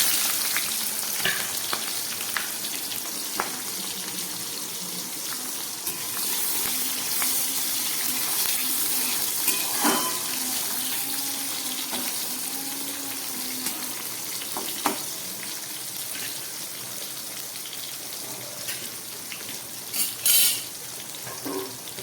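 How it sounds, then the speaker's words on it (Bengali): Coarsely chopped onions sizzle and crackle steadily in hot oil with bay leaves for a long stretch, with occasional stirring scrapes and clinks, close and fairly quiet. "এর মধ্যে আমি এবারে বড় করে কেটে রাখা পেঁয়াজগুলো একটু ভেজে নেব"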